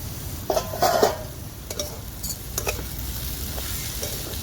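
Wild chai vine greens sautéing in oil in a pan, a steady soft sizzle with a few stirring scrapes and light clatters near the start, close and fairly quiet.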